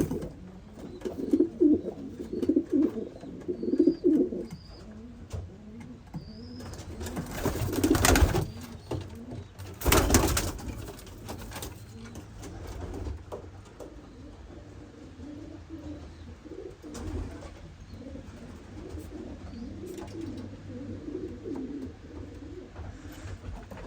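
Racing pigeons cooing inside a loft, soft repeated throaty coos near and farther off, with a couple of brief louder bumps or wing flaps partway through and no talking.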